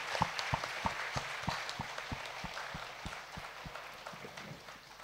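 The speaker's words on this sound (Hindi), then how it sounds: "सबसे पहले हमारा प्रिय गुरु ब्रह्मर्षि पितामह पत्री जी के लिए जोरदार तालियां बजाएंगे।" Audience applause at a Hindi spiritual meditation gathering, fairly faint and distant, with a regular rhythmic beat of claps that gradually fades.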